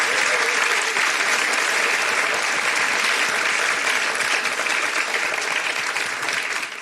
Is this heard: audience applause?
yes